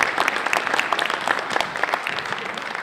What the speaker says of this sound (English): And let's give you a bit of applause.